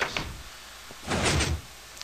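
Minecraft piston auto door sliding shut in a game, a short muffled mechanical thunk followed by a louder whooshing block movement, brief and close with nothing else around it.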